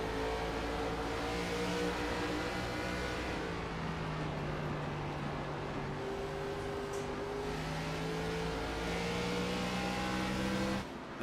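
Onboard the number 48 ARCA race car at Bristol: a loud, continuous engine drone whose pitch rises and falls with throttle changes, running without pause until it cuts off at the end.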